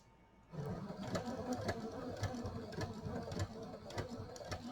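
A sewing machine runs steadily at close range, its rapid mechanical stitching forming a continuous whirring rhythm after a brief quiet start.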